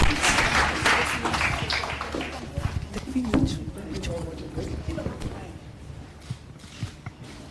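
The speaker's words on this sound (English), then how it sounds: "A round of applause for him, please." Applause at an awards presentation during a Lagos smart meter hackathon, a burst of clapping that starts fairly loud and slowly fades while a voice speaks over it.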